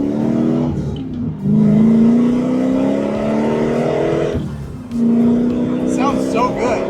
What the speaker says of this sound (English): I always love the Toyotas because their V8s have such a good rasp.